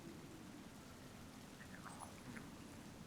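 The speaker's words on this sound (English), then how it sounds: "The rain kind of sucks." Rain falls in the video game Pokemon Scarlet, a soft, steady hiss of downpour at low volume with a few faint tonal game blips over it.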